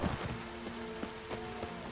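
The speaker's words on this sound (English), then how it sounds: "Looks like rain." Steady rainfall in the video game The Witcher 3: Hearts of Stone, a soft continuous patter of drops on surfaces, faint and even throughout, with no talking.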